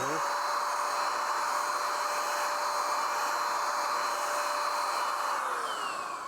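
A cordless paint sprayer blows a flat spray pattern from about eight inches away, giving a loud, steady whirring hiss that holds unbroken from start to finish.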